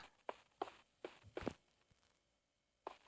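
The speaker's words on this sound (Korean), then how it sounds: "발소리가 가까워지고 있어" Guards' footsteps drawing near in a video game, a quiet run of distinct hard steps with uneven spacing, a short pause, then one more step.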